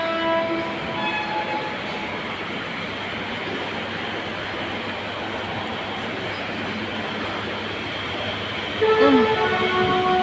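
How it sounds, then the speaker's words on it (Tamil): A train rumbles steadily past with a dense, continuous roar and faint tonal squeals, growing a bit louder near the end. "பாருங்கள் ட்ரெயின் வந்துருச்சு."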